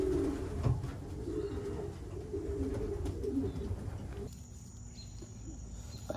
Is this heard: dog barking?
no